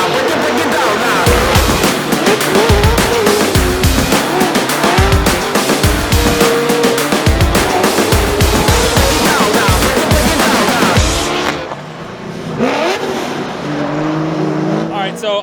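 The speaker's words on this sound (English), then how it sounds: "You watch me drive my S13." An S13 drift car revs hard and slides, its engine rising and falling over repeated tire squeals; the loud, close sound runs continuously, then thins out near the end.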